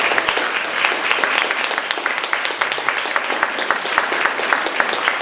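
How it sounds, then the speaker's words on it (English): A panel audience at a global health event breaks into loud, dense applause, many hands clapping steadily and close for several seconds, with no one speaking over it. "let's give a huge round of applause"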